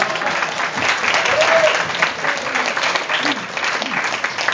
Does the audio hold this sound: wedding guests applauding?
yes